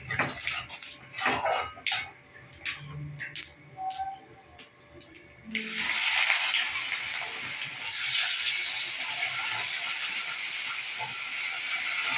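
Bay leaf, dried red chilli, cinnamon, cardamom and cumin hitting hot oil for a Bengali tempering, with a sudden loud steady sizzle and hiss after earlier clinks and clatter of utensils, close by and without talk.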